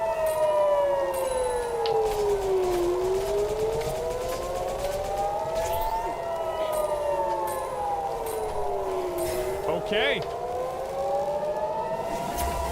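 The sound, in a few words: air raid sirens in video game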